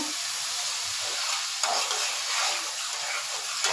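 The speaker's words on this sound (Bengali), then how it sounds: "এখন দেখেন আমি এই যে চিংড়ি মাছগুলো দিয়ে দিব" Shrimp frying in oil with a cooked spice paste, making a continuous bright sizzling hiss with faint stirring, steady and close with no voices.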